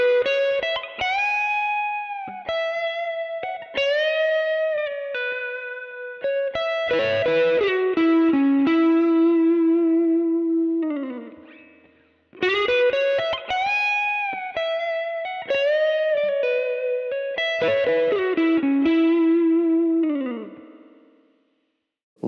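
A slowed-down electric guitar lick on a 7th chord, heard twice in a row: clear, separate picked notes and bends ending in a held note, with a lightly distorted, chorused tone and no talking.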